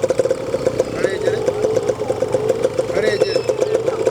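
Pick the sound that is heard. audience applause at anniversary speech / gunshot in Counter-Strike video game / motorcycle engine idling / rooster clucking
motorcycle engine idling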